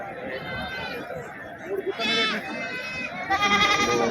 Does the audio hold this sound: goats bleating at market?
yes